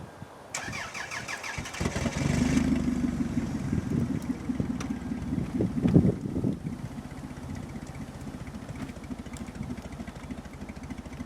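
A car engine cranks and catches after winter storage in freezing weather, then settles into a steady idle heard close by with some wind noise.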